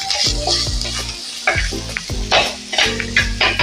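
Spice mixture for banana stem and green gram thoran sizzles and crackles in hot oil, with steady frying hiss and a few stirring bursts, close and fairly loud.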